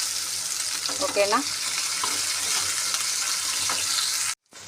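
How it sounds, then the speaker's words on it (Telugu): Finely chopped onions frying in a pan while cooking poha, a steady bright sizzle throughout with a brief spoken word and faint stirring, cutting off abruptly at the end. "చిన్నగా కట్ చేసి పెట్టుకున్న ఆనియన్, ఉల్లిగడ్డ వేసుకున్నా. ఇవి మంచిగా కొంచెం ఫ్రై కావాలి."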